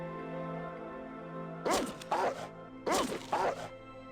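Dogs in the video game Fallout 2 give two pairs of short, sharp barks over a steady low background hum, with no talking.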